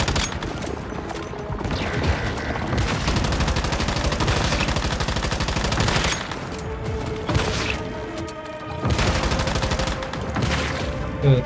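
Sustained bursts of boss gunfire in the video game Once Human, dense rapid volleys and heavy impacts filling the scene almost without pause, loud and close throughout.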